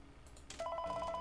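A phone rings in the horror video game Five Nights at Freddy's 3. After a short burst of noise, a steady electronic ring tone starts and holds for the rest of the moment, clear and fairly loud.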